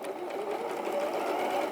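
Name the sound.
sewing machine sewing cushion cover sides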